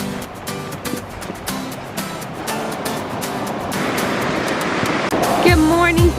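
A river flowing beside a trail during an early spring hike on Mt Moriah in New Hampshire's White Mountains, a steady broadband rush under footsteps and clatter, growing louder toward the end.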